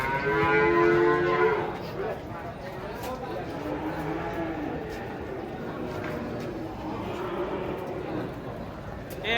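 Huge Limousin cattle being unloaded from a truck in Indonesia moo loudly, with one long, deep, close bellow at the start and fainter lowing afterward over a busy crowd where people talk.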